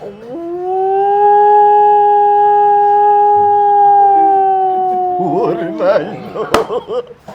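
A person imitates a dog's howl, one long sustained wavering note that rises and holds before breaking into shorter yelps near the end.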